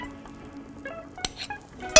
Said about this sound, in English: Oh, you hear that sizzling?